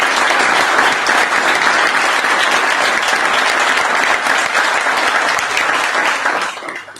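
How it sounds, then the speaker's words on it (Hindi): Dense, sustained applause from an audience at a network marketing business event in India, loud and continuous for several seconds before tapering off at the end. "एक बार तालियां बजा दीजिए सर"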